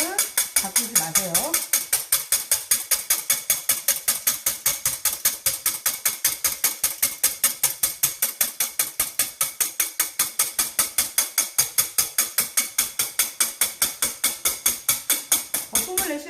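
A whisk beats egg whites into stiff, pointed foam in a dry bowl, making fast, even rhythmic clicking scrapes against the bowl that run steadily and close up from start to finish.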